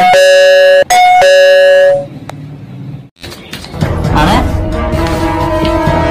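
A loud electronic doorbell chimes in a quick tone sequence, then fades into a noisy street scene with traffic rumble.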